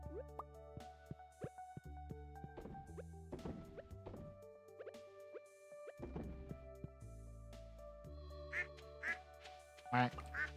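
Stardew Valley farm duck giving a few quacks amid game music and soft dripping and plopping effects, with a loud quack near the end.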